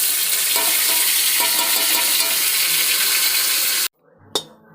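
Curry sizzling and frying hard in a pan as chili sauce goes in, a steady loud hiss with faint stirring, then cutting off abruptly near the end before a single clink and a short fading sizzle.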